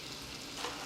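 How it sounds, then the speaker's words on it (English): Bacon frying in a pan on a stovetop, a steady soft sizzle with faint crackle, fairly quiet and even throughout, with a slight swell near the end and no talking. "you can hear that bacon frying"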